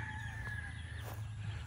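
Chickens on a breeding farm cluck softly and steadily under a low background hum, with no voices heard.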